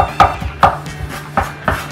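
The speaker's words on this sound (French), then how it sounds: "Couper un morceau comme ça." A knife chops a piece of taro on a cutting board for a vegan Cantonese rice dish, six or so close, crisp thuds in an uneven rhythm.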